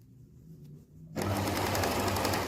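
A sewing machine stitches the shoulder and side seams of a quilted waistcoat at a 1.5 seam allowance, starting abruptly after a quiet second and then running as a loud, continuous, fast whir.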